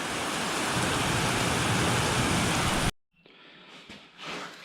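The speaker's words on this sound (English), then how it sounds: "we're going to shut this door here before the wind whips this rain in." Wind-driven rain pours steadily outside an open door during a storm, a loud, dense hiss that cuts off abruptly about three seconds in, leaving faint indoor room sound.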